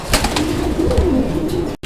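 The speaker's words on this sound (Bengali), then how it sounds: "এটাও কিং কবুতরের একটা জোড়া" A pair of king pigeons coos steadily at close range, giving a low, throaty, rolling call that continues for nearly two seconds before a brief break.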